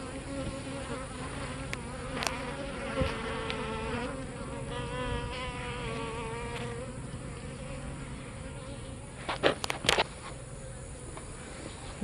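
Honey bees buzzing around a hive in the evening, a continuous near drone with individual bees passing close to the microphone now and then.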